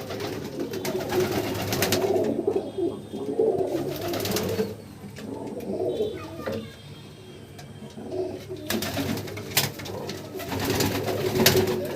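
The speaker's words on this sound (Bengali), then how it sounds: "এখানে সব ফিমেল পায়রার থাকে" Female pigeons in a loft coo together in overlapping, throaty low bursts, loud and near, with brief quieter lulls in the steady chorus.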